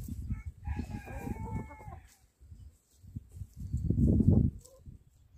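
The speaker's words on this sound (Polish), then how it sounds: "mniejsze kury. Kurenioski wraz z brahmą i jednym małym kurczakiem, który w tamtym roku się wykluł." Backyard chickens, including Brahma hens and a young chick, cluck and squawk nearby in two bursts, with a rooster-like crow rising in the first half amid farmyard noise.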